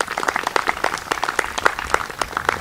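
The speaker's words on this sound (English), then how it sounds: "So how about a round of applause for Larry Ebere?" An audience at an evening event applauds, a dense burst of many hands clapping close and loud for a few seconds, with no speech over it.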